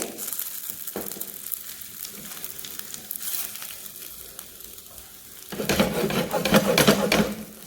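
Chapati rolls shallow frying in a pan, an uneven sizzle with crackling bursts that swell louder near the end, alone without talk.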